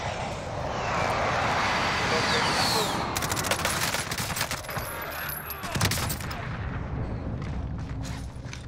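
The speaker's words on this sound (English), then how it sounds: "Enemy position. Airstrike inbound." Airstrike in Call of Duty Warzone: a roaring aircraft engine sweeps overhead, then a rapid rattling string of explosive blasts and gunfire-like cracks, with a voice briefly speaking in the mix.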